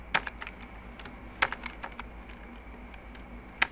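Keystrokes on a computer keyboard as a folder copy command is entered: a few sharp, close clicks in small clusters separated by pauses, heard alone.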